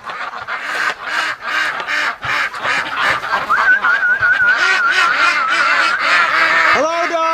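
Domestic breeding ducks quack and honk loudly and almost continuously while plowing through deep snow in a cold garden, a dense overlapping flock chorus heard up close with no talk.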